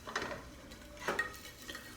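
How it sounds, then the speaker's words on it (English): Crushed garlic cloves drop into hot oil in a skillet, giving a few soft clinks and stirring scrapes over a quiet sizzle, with no talking. "They go in, you can hear them sizzle."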